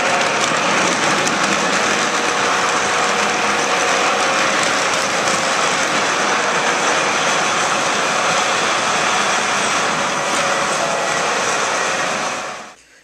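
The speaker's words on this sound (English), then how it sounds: "the short little clip of the train running by" A Lionel Fastrack model train runs past close by, a loud continuous rolling rumble and metallic clatter that holds steady, then drops away at the very end.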